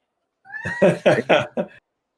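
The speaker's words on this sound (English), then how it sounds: "shut that cat up!" A nearby cat meows in a short run of loud, close calls, starting with a drawn-out rising meow and followed by several clipped, quick bursts.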